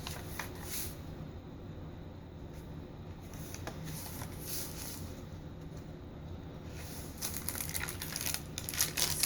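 A crinkly glassine bag is handled close by, with soft continuous rustling and crinkling that gets busier toward the end, and no talking.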